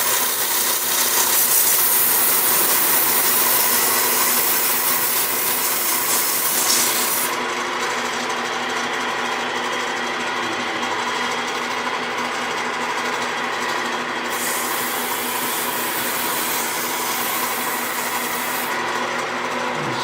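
A turned exotic wood box being sanded with 100-grit paper while spinning on a lathe, giving a loud, steady abrasive rasp over the motor's hum that softens partway through, then rises and dips again.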